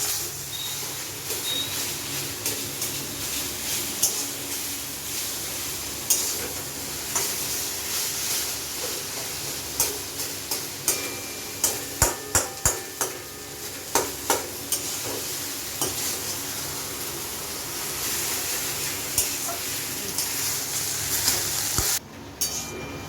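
Steady sizzling of taro leaves frying in a pan, with a run of sharp scraping stirs from a spatula midway through.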